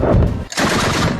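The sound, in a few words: anti-aircraft guns firing continuously in Kabul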